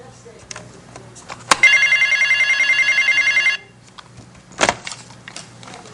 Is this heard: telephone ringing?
yes